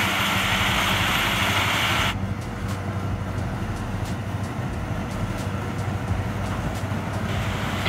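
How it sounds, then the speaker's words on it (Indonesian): Combine harvester engine running in a rice field, a steady loud mechanical drone with a hissy broadband layer that drops away after about two seconds, leaving a continuous low rumble. "mesin combine ini harus berpindah-pindah."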